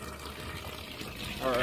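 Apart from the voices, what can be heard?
water filling a boat livewell tube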